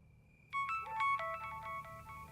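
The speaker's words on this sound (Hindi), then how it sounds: "रात के इस टाइम किसका फोन आ रहा है?" An electronic phone ringtone plays a quick, bright melodic pattern of beeping notes, fairly quiet, after a brief steady tone.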